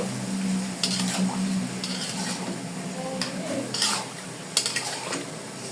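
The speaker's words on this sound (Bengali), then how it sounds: "আলুগুলো ভালো করে কষিয়ে নিব।" Potatoes stirred and sautéed in a pan, a spatula scraping and clinking against the metal over a steady sizzle, with irregular louder scrapes close by and no talking.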